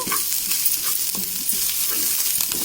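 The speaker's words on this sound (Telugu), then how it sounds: "ఇప్పుడు మనం తరిగి పెట్టుకున్న కరివేపాకు, కొత్తిమీర వేసేసాను. ఇప్పుడు ఇదంతా కూడా చక్కగా కలుపుకోవాలి." Onion, curry leaves and coriander are stirred in a hot pan for curd chutney, a steady scraping and sizzling that stays close and continuous with no voices.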